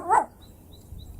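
A dog gives a single short, loud bark near the start, followed by quiet room tone with faint background noise.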